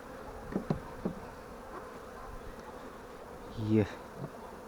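Honey bees from a swarm being moved into a hive buzz close by in short passes, with a louder buzz near the end over a quiet background, no talking.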